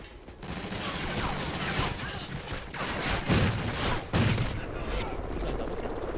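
Rapid weapon fire in a gun game round of a shooter, repeated loud bursts and booming shots in quick succession.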